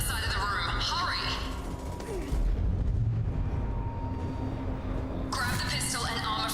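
Deep, rumbling explosions fill a Mass Effect attack scene, a loud sustained roar of blasts and booming impacts with crackling debris, while a voice speaks over the chaos.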